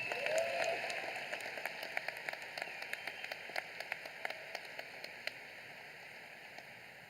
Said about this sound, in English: Let's have one more round of applause for Regent Mark Griffin and Connor Lee.